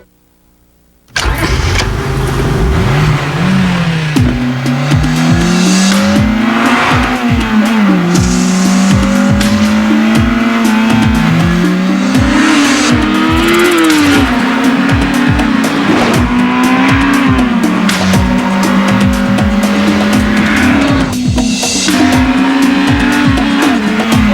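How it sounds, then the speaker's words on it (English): A 200-horsepower Acura RSX engine roars loudly as the car accelerates, its pitch climbing and dropping through repeated revs and gear changes, continuous and close with no talking. "The all-new 200 horsepower Acura RSX."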